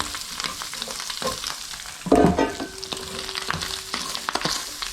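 Onion and garlic mixture dropped into a hot pan while making bacon and chili jam, bursting into a loud, sharp sizzle that settles into steady frying crackle, with utensil clinks and stirring.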